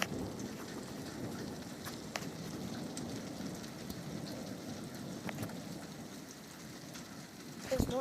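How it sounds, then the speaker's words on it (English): Thunderstorm with steady rain and low rolling thunder, a continuous dense rumble and hiss with no speech, swelling slightly toward the end. "It's a lot of thunder."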